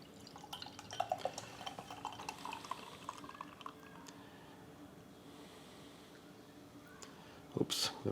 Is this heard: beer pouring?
yes